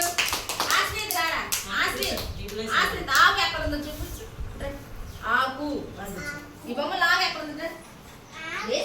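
Young children clapping their hands together in an anganwadi preschool classroom, bursts of applause mixed with kids' voices and an adult speaking over them.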